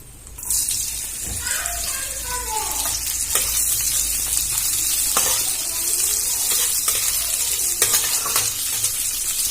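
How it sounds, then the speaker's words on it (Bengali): A loud, continuous frying hiss of cashews and raisins fills the pan with bursts of crackle and a few metallic scrapes of stirring, close and steady throughout. "কাজুটা ভাজা হয়ে গেছে, আমি এর মধ্যে কিশমিশটা দিয়ে দেব"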